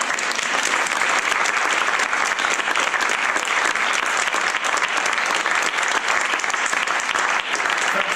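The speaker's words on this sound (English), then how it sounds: "So a big round of applause for Dave." Loud, sustained applause from a large audience at a science festival talk, a dense unbroken wash of clapping that holds steady throughout.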